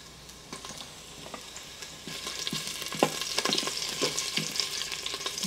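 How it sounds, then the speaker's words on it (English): Ginger, garlic and chilies sizzle and crackle in a tablespoon of vegetable oil, with a steady fry that grows busier and louder over a few seconds, sharp pops scattered throughout and faint stirring beneath. "adding 1 tablespoon of vegetable oil or whatever oil you're using, and adding my ginger and garlic"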